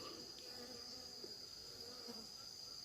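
Insects circling around to explore fill the air with a faint, steady buzz and hum that carries on without pause and without talk.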